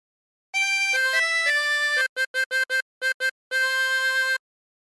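A harmonica plays a phrase from a song: a few sustained reedy notes, then a quick run of short separate puffs and one long held note. It sounds close and clear, with no voice.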